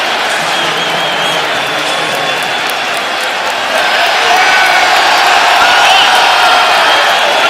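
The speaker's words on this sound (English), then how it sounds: "They don't like to hear the fans cheering." Raptors fans in a basketball arena during the 2019 NBA season, a loud, sustained roar of crowd cheering and clapping that swells further midway, with faint commentary voices underneath.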